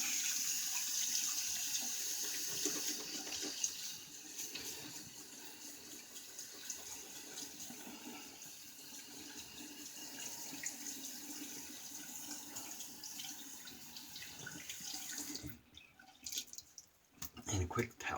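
Water runs steadily from a tap into a sink while shaving gear is rinsed clean, a faint continuous splash heard under a voice, ending with a few louder clatters.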